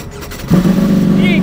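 A rider's CIV racing motorcycle fires up and settles into a loud, steady, close-up idle, over a brief opening stretch of talk.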